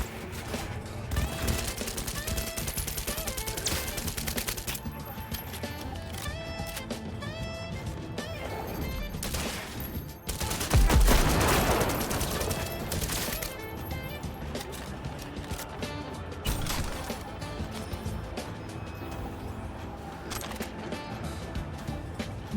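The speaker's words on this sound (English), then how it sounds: "They're opening fire!" Enemy gunfire in Cyberpunk 2077 rattles through a dense, busy game mix, with a heavy crash or burst near the middle, continuous and loud throughout.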